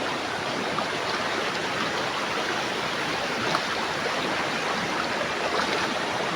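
A strong river current rushes past at a crossing point, a dense, constant roar of churning water close by, loud and unbroken with no voices.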